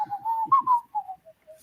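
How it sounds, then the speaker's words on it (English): A person whistles a short wavering tune nearby, with a few sustained notes that rise and fall and then fade into brief quieter tones. "I'm sorry, I'm whistling."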